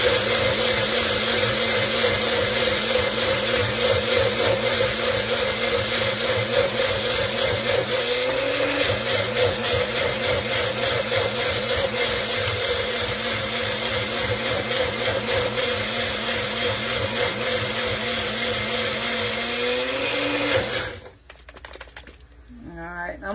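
A Magic Bullet blender pureeing ginger and turmeric, running as a loud, steady motor whine with a churning rattle for about twenty seconds before cutting off abruptly.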